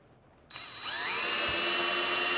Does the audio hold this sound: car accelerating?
no